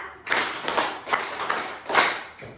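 Close, sharp hand claps land in a counted sequence, five separate moderately loud claps with a short pause between each, in a quiet indoor room with no talking.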